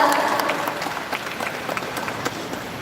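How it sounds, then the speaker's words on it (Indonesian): A crowd applauds steadily at a televised regional election debate, a dense patter of clapping that gradually fades a little over a few seconds. "Boleh sekali lagi berikan tepuk tangan untuk paslon kita."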